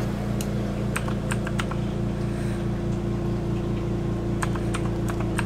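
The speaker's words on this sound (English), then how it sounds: "Type in something." A computer keyboard is typed on in short scattered clusters of light clicks, heard over a constant low mechanical hum. No one speaks.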